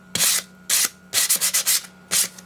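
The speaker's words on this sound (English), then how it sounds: "you're just going to sand it before you paint it" Hand sanding on wood, several rough scratchy bursts, the middle ones quick back-and-forth strokes, close up with no talking.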